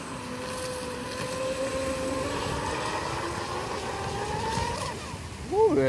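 A Vector SR80 radio-controlled speedboat runs on the water, its motor a steady buzzing whine with shifting pitch, heard from moderate distance for several seconds before a sharp rising sweep at the end.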